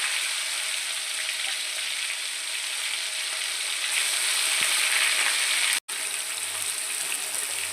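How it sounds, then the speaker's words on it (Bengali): Marinated bata fish pieces fry in a pan for a Bengali dahi fish dish, giving a steady, close hissing sizzle that runs almost unbroken apart from one brief cut. "আরেকবার বাটা মাছগুলো আমি ভেজে নিলাম ভালো করে"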